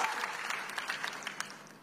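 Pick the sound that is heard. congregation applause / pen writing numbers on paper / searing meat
congregation applause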